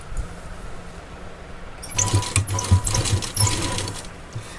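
A sewing machine stitching fabric along a marked line on a ready-made neckline: after a quiet start, a close, steady motor whir with rhythmic needle clatter runs for a few seconds alone.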